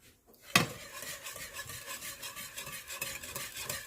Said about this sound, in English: I'm just gonna stir this until the other couple pieces of cheese melts